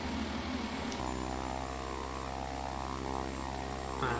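IAI 201 Arava twin-propeller aircraft in a flight simulator, its engines droning steadily with a strong tonal hum that shifts pitch near the start and end, loud and continuous with no voices.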